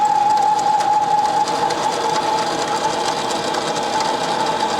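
Mini lathe turning stainless steel bungs dry without oil, giving a steady whirring drone with a sustained high tonal whine, loud and close, running alone without any voices.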